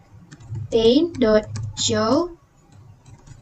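Computer keyboard keys tap in light, quick bursts while someone types Java code, partly under a person talking.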